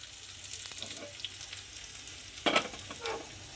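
Crushed garlic and asafoetida tempering for tomato fenugreek dal, a close crackling sizzle in hot oil with a sharp burst of spitting partway through, no voices.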